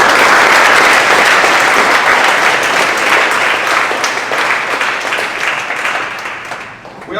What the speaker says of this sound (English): So players, if you can give your parents a round of applause for everything that they do.